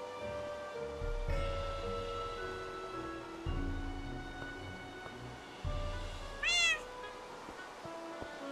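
An ocelot in modded Minecraft gives a single clear, rising-then-falling meow near the end, set against steady background music and soft shuffling game sounds.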